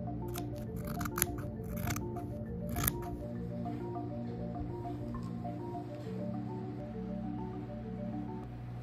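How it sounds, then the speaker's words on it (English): Scissors snip through fabric around hoodie pattern templates, a burst of close, crisp cuts in the first few seconds over a steady background hum. "I'm just cutting around the templates, leaving about a ½ inch around the entire thing for seam allowance"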